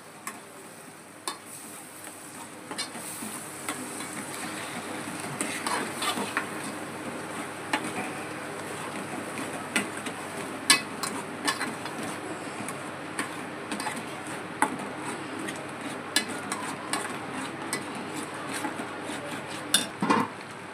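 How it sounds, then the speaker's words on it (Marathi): Masala for a rawas fish curry sautéing in a pan, a continuous soft sizzle with frequent stirring scrapes and small ticks of a spoon against metal, steady throughout. "मसाला चांगला परतून घ्यायचा आहे"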